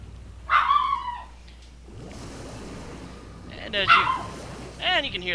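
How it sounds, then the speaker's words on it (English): Several dogs bark and yip in short bursts at the start and near the end, one of them Charlie, with an excited whimpering edge, set against a steady low background hum. "And you can hear the dogs in the background."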